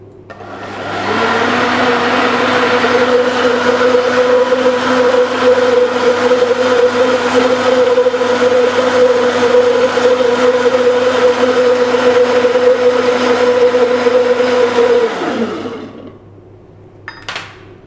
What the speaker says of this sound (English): So we turn ourselves back on again, being safe not to allow the blender to splash.